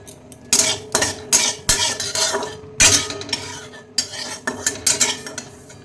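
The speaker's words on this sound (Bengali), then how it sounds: "এবার এই শুকনো খোলায় পোস্ত ভেজে নেব।" Poppy seeds dry-roasting in a wok on a gas stove, stirred with a spatula that rasps and scrapes against the metal in quick uneven strokes, close and busy, with no talking.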